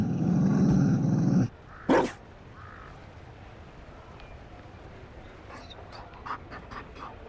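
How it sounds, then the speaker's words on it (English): A Mabari war dog in the fantasy game Dragon Age: Inquisition pants and gives a short bark, starting loud and close before settling into quieter breathing and faint yips over ambient game sound. "You found a dog. They don't breed Mabari in Olay."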